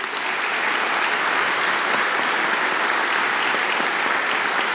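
Dense, loud crowd applause at a political rally with tea growers from Rize, a continuous roar of many hands clapping at an even level throughout, with no voices standing out.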